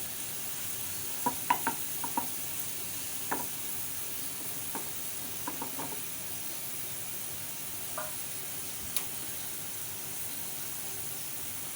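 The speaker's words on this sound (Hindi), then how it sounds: "इसके ऊपर हम एक प्याज का बघार लगाएंगे" Sliced onions frying in oil for a nihari tempering (baghar) give a faint, steady sizzle, broken by a few sharp clicks from stirring.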